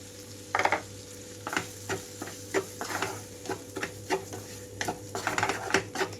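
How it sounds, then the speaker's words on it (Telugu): Rice rava and moong dal being stirred in a pan for upma, with repeated scraping strokes of a spoon against the pan over a steady low hum, a faint sizzle under the stirring. "1 నిమిషం తర్వాత రవ్వ వేసేసుకుంటున్నాను."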